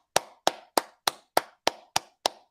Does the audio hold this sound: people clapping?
yes